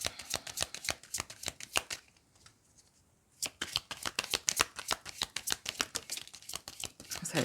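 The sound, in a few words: shuffling tarot cards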